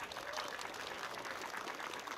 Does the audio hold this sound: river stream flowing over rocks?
no